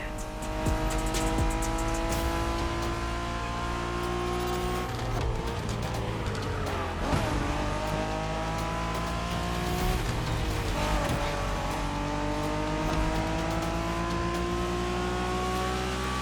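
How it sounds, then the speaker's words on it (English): Street race cars in The Crew Motorfest roar through a Japanese street race, engines revving hard with rising and falling pitch, gear shifts and tire squeals, loud and continuous with no talk. "We're going for some proper Japanese street racing."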